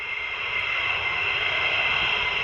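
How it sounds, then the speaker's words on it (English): A fast military jet at RAF Lakenheath roars with a loud, steady, broadband engine rush that holds unbroken throughout, with no voices. "Coming up for you right now, little bit of fast jet action from one of our favourite places."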